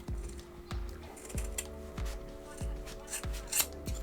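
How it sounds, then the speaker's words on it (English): Sharp scissors snip through synthetic braiding hair extensions in a quiet indoor setting: about seven crisp, separate cuts at a steady pace, close to the listener, with soft rustling between them. "So using your sharp scissors, you're going to cut exactly where it folds."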